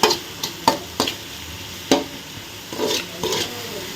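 Tomatoes cook in a pan for flattened-rice poha upma, with a soft sizzle under sharp, irregular spoon clinks and scrapes as the mixture is stirred up close.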